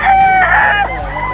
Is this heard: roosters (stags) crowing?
yes